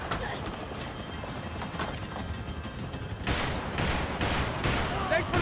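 Gunfire in the video game Max Payne, a rapid crackling burst of shots that grows louder and denser toward the end, mixed with game sound and voices.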